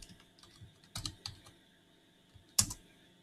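A few sparse, crisp keystrokes on a computer keyboard as a password is typed into a terminal on Ubuntu Linux, ending in one louder key press, with quiet pauses between.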